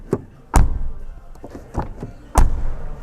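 Several heavy thuds of the rear door of a 2025 Skoda Enyaq iV electric car being shut, spaced apart, loud and close with a quiet pause between.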